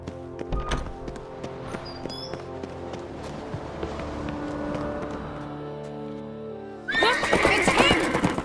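A horse in The Witcher 3 neighs loudly and close, with clip-clopping hooves and a burst of game noise near the end, set in Skellige under faint voices and background music.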